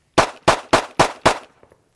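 A handgun fires five rapid, evenly spaced rounds at a target on a shooting range, each shot a loud, sharp crack close by, followed by a brief fading echo and faint clatter.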